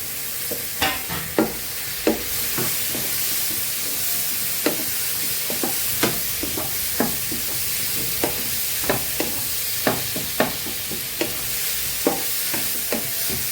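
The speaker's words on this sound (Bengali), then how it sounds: "সামান্য একটু আদা বাটা দিয়ে দিচ্ছি।" Jackfruit and paneer masala with ginger paste sizzles in a pan while a spoon stirs it, giving a constant frying hiss broken by regular scraping clicks about once a second. No voices.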